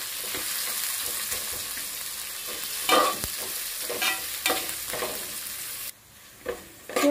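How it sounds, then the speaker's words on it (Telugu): Long-sliced medium onions fry in hot oil in a pan, giving a steady close sizzle broken by scraping, clattering stirs from a spoon before the sizzle drops suddenly near the end. "సో ఆనియన్స్ ఫ్రై అవుతున్నాయి"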